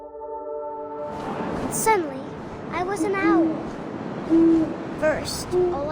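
An owl in the video game What Remains of Edith Finch gives several short, low hoots at intervals beneath a voice that speaks throughout.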